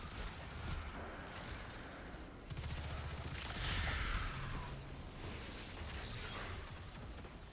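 Gunfire from volatile rounds in Destiny 2, with rapid bursts of weapon fire, whooshes and explosive impacts in a dense, fairly quiet game mix.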